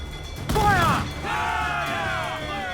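A ship's cannon fires during a naval battle in Assassin's Creed IV Black Flag: one loud blast, then a sustained creaking, groaning tail with voices mixed in.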